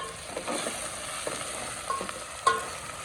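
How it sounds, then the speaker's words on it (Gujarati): Tomatoes fry in oil in a village kitchen pan for a green moong curry, a steady sizzle broken by several scraping stirs and a sharp clink near the end, with no one talking. "હવે નાખ્યું ટમેટા"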